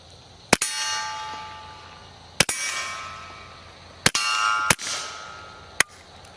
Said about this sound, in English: You can hear that 22 ammo, different sound every once in a while.